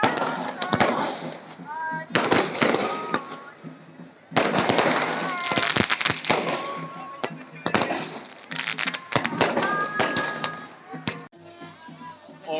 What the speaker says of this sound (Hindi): जब नदी के भीतर से ये आतिशबाजी होती है तो इसकी शोभा और बढ़ जाती है